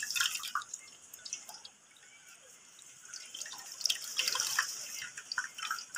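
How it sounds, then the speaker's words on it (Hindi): Water dripping and trickling in a vessel while poppy seeds are rinsed, a steady patter of small drips and splashes, close and fairly soft, with no voices. "अब दूसरी दफ़ा मैंने फिर इसमें पानी डाला है, पानी भी डालते जाएंगे"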